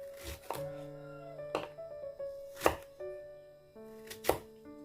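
A knife chops through an eggplant on a board in a few distinct thuds, spaced apart, near and fairly quiet, with a soft ringing tone underneath.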